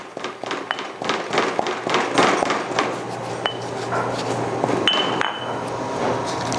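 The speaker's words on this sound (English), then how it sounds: "Good idea to put a little bit of salt while you are pounding this, making a curry paste." Lamb curry paste with salt is pounded in a mortar, giving repeated sharp knocks and clinks at an uneven rhythm, close and fairly loud, with no talking.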